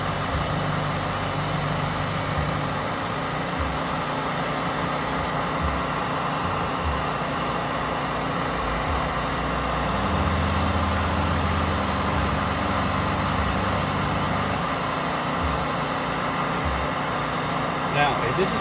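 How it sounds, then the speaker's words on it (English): A milling machine climb milling during a rotary table build, spindle slowed to about 1400 rpm, giving a steady droning hum with a layer of cutting noise that swells partway through. "now I can use that feed rate and go through climb milling"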